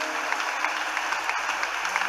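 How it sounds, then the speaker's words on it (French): Church congregation applauding in praise of Mary, steady dense clapping from many hands filling the room. "Est-ce que je peux acclamer pour Marie?"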